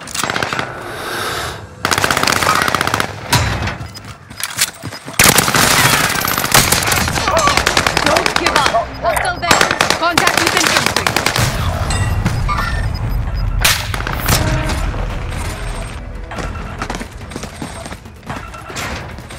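Dense video game gunfire, with rapid automatic bursts and single loud shots packed together almost without pause, plus occasional booms, under brief shouted voice lines.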